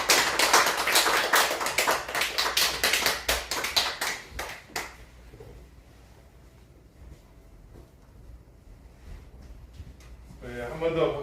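A church congregation breaks into dense, lively applause for about five seconds, which fades into quiet room tone before a voice speaks at the end.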